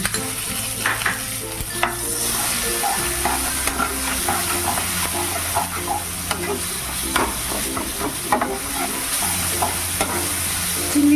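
A paste of shrimp, garlic and dried chilli frying in a pan with raw egg for a pointed gourd mash, loud continuous sizzling with busy scraping and stirring strokes, no one talking.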